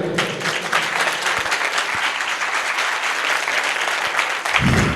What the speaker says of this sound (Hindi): एक अच्छी ताली,